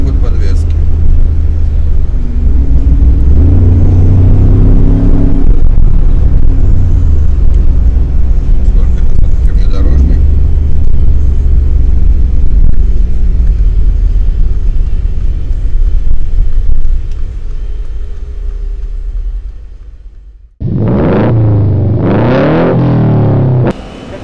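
A Mercedes G63 AMG drives along with a deep, steady engine rumble and road noise, then drops away before a louder burst near the end; someone talks throughout.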